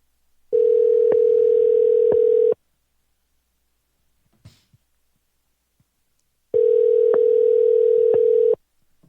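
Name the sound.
telephone dial tone while calling back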